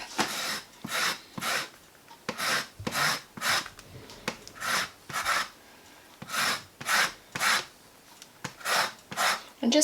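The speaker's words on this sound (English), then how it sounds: "And you definitely want to zest your lemon first" A lemon being zested on a rasp grater, rhythmic scraping strokes repeating steadily and close up, about a dozen rough rasps in even succession.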